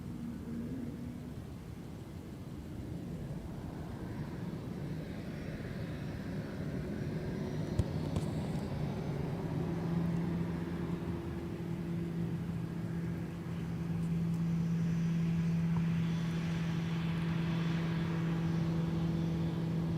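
Delta airliner departing runway 30 Left at Minneapolis–St. Paul, a steady jet roar building over twenty seconds with droning engine tones that grow louder and fuller toward the end, heard from a distance without voices.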